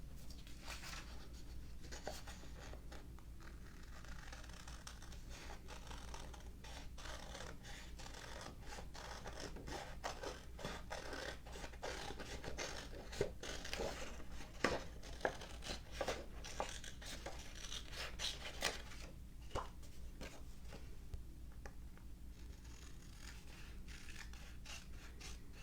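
Scissors snip steadily through paper around a brown marker outline for a sunflower shadow box craft, a quiet, continuous run of close cuts and rustles with no talking.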